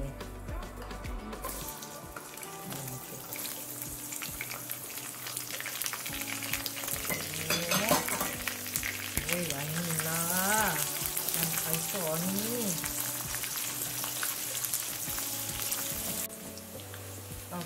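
Chopped ingredients hit hot oil for pineapple and eggplant pajeri, and the oil keeps up a loud, steady sizzle and crackle while a spoon stirs the pan and a voice talks intermittently.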